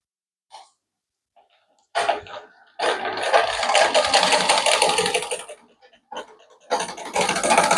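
A sewing machine stitches a shirt in quick motorized bursts, with a short run, a long steady stretch and a final burst separated by brief pauses, loud and close with no talking.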